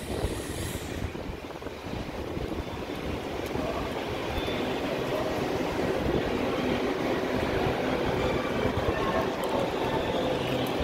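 A Great Western Railway class 802 unit on a service to Worcester via Oxford gives a steady rumbling roar that slowly builds as it draws near, with no talking.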